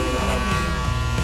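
Wahl electric hair clippers buzz continuously, a close, loud, steady motor hum with dense harmonics while a low bald fade is being blended.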